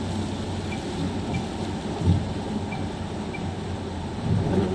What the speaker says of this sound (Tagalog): Napakalakas na ulan.